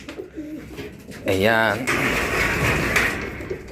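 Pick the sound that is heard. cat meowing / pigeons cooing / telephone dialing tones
pigeons cooing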